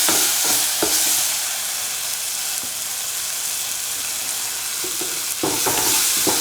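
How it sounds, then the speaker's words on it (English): Tomato pieces are crushed and stirred in a hot frying pan, giving repeated scraping strokes over a loud continuous sizzle, with a brief spoken remark. "crush the tomato piece."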